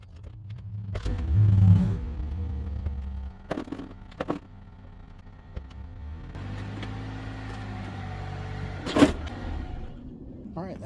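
A 2009 Chevy Cobalt backs up onto ramps nearby, heard as a low engine rumble that swells at the start, then idles on with a few knocks and thumps and a sharp clunk near the end.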